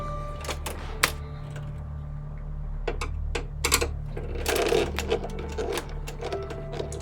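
Small screws are snugged up on a 1:200 scale RMS Titanic model, giving sparse, irregular metallic clicks and ticks from a screwdriver, close and fairly quiet, over a low steady hum.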